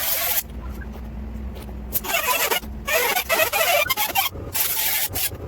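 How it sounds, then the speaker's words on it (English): A saw rasps through the sheet-metal body of a 2005 Honda Element near the pinch weld, in loud, rough bursts of cutting with short breaks between strokes. "I just sawed it straight up on this side of that pinch weld"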